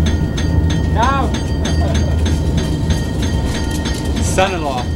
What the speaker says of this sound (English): Like tens of thousands of Kewaunee trains before us, we plod down Norwood Avenue.